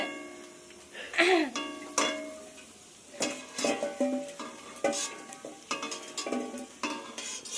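Phuchka puris fry in hot oil in a wok with a steady sizzle, broken by loud clattering scoops and utensil knocks, while voices chat faintly in the background.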